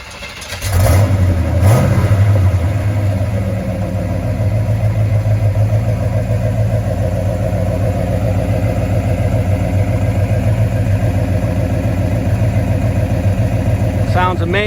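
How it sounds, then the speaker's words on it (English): A big block Chevrolet V8 in a first-generation Monte Carlo fires up with a brief rev, then settles into a loud, steady rumbling idle close by for the rest of the stretch, with voices faintly underneath. "Let's listen to that big block Chevrolet rumble."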